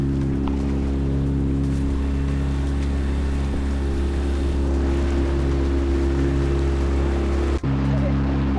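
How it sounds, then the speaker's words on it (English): Heavy rain pours down on a sailing boat while it moors at Dartmouth, a constant broadband hiss over the loud, steady hum of a running engine, briefly cut by a short knock near the end. "So it is now raining very hard."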